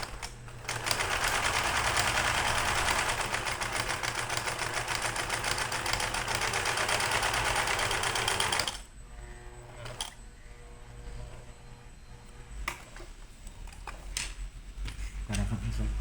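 A sewing machine topstitches with a wider stitch in a steady, loud, close mechanical whir for about eight seconds, then stops, leaving quiet room sound with a few faint clicks and handling noises.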